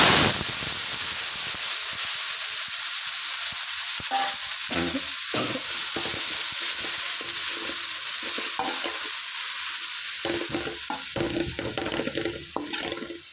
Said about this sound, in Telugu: ఇందులో రెండు కట్ పుదీనా కొత్తిమీర వేసుకొని ఫ్రై చేసుకుంటాం